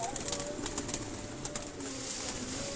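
A pigeon on a rooftop gives soft, brief coos and faint wing flutters under open-air background noise, fairly quiet and distant, with no talk.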